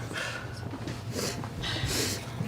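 A voice imitates sniffling during a tabletop role-playing game, with a few quick nasal snorts and breathy sniffs over a couple of seconds, close and moderately loud.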